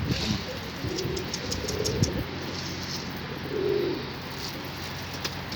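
A female pigeon gives a few low, soft coos amid a busy loft, with faint rustling and background voices around it.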